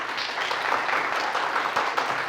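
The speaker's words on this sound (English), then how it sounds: "How about a nice round of applause for them?" An audience applauds a quiz bowl team being introduced at a high school academic competition, a steady wash of clapping at moderate level with no voices over it.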